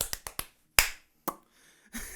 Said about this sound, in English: Sorry, clapping.